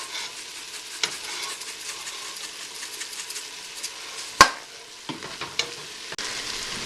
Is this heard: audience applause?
no